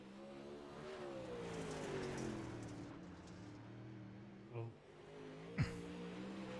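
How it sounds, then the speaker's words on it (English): A UMP dirt modified race car's engine revs and accelerates around the dirt track at Fairbury, a steady throaty roar rising and falling in pitch, with a couple of sharp brief pops near the end. "Turn those car sounds up a little bit"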